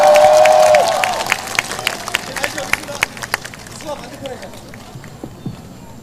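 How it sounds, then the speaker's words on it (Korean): Crowd applause and cheering at an outdoor 2017 presidential campaign rally in Uijeongbu, strong at first and then thinning into scattered claps and crowd noise, starting under an amplified voice. "박수로 맞이하시기 바랍니다"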